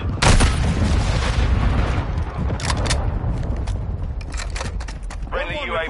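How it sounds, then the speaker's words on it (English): A cruise missile strike booms in Call of Duty MW2 on PS5, a loud, sustained rumbling blast with a crackle of gunfire and debris over it, and a voice cuts in briefly near the end. "Friendly cruise missile inbound."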